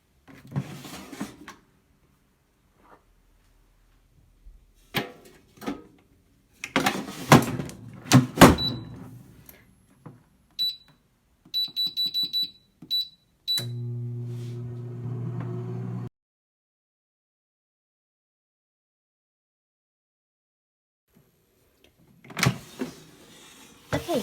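A PowerXL air fryer heating queso, rice and beans: scattered clatter and knocks, a few soft electronic beeps, then a short steady low hum from the running appliance, with quiet handling sounds at the end.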